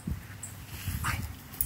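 Dog whimpering in short, faint whines and yips while playing outdoors, a few brief bursts close by.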